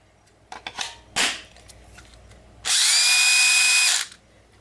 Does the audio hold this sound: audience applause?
no